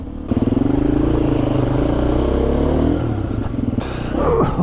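A KTM 350 EXC-F enduro motorcycle engine revs loudly and close, with a rising, pulsing throttle roar, a brief dip and clatter, then another surge.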